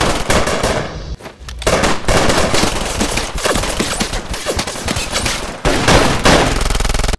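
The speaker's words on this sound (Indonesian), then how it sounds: "Spider dan gengnya langsung membrodol senjata hingga Walt terbang." Rapid, loud bursts of machine gun fire rattle continuously, with brief gaps, sounding like an intense cinematic shootout.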